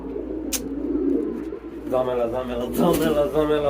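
Pigeons at a pigeon farm coo in soft, repeated low calls, close by, with a voice speaking over the later part of the cooing.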